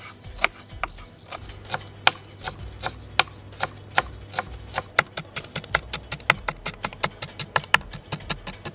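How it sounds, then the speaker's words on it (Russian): A knife finely chops cilantro, dill and parsley for dolma in grape leaves, sharp rhythmic strikes on a board that start spaced and grow rapid and dense, close and crisp without talk. "И мелко нашинкуем."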